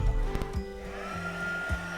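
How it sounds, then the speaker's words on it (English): A handheld embossing heat tool heating a stamp makes a steady hairdryer-like blowing hum, close and continuous. A few sharp knocks and clicks break in near the start and again near the end, with no voices. "Sounds like a hair dryer."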